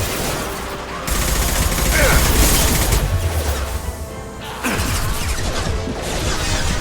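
Dense, loud weapon fire in the video game Mass Effect 2, bursts of rapid shots and crashing impacts that run almost without a break, with brief voices mixed into the din.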